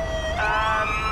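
A police siren wails steadily in the GTA5 video game, close and loud, its tone sweeping upward partway through over a low road rumble, with no voices.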